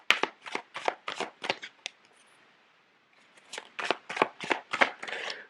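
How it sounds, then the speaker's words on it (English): Tarot cards are handled and shuffled at close range, giving rapid bursts of crisp riffling snaps, then a brief lull before another fast run of card flicks. "So let me lay out the cards."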